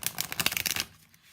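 A deck of Tattoo Tarot cards gets a quick, close riffle shuffle: a crisp flutter of cards lasting under a second that ends abruptly and leaves near silence.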